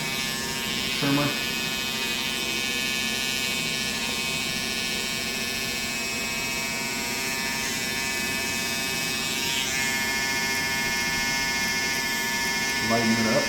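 Electric hair trimmer buzzing steadily while cutting a line-up along the hairline, a continuous close whine with brief louder touches at the start and end.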